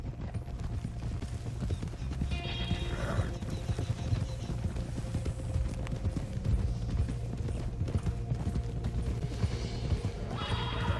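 Horse hooves clop steadily while a horse whinnies once or twice over a constant low hum and ambient background noise, in the video game Red Dead Redemption 2 on PS4.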